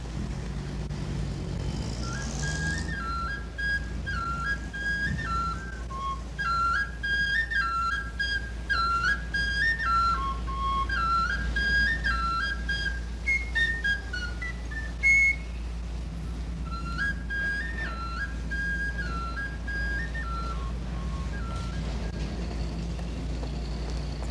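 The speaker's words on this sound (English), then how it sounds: "who spends his mornings serenading Market Street with a penny whistle" A penny whistle plays a lilting tune in quick stepwise phrases over a steady low rumble of street traffic on Market Street, San Francisco, circa 1955.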